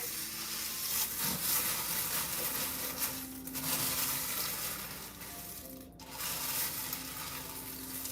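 A big batch of mixture with six cups of ingredients stirred together in a bowl, soft continuous scraping and swishing up close, with a brief quieter pause near the end.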